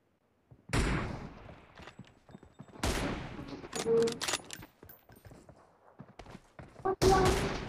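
M24 sniper rifle shots in a one-on-one team deathmatch, several loud separate blasts spaced seconds apart, each followed by scattered clattering and movement noise.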